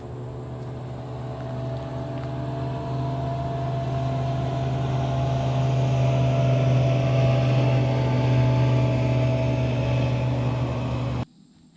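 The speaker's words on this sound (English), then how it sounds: "watch this boat go right down the river" A boat passing down a river: a steady motor drone with a low engine hum holds for about eleven seconds, swelling slightly in the middle, then cuts off abruptly.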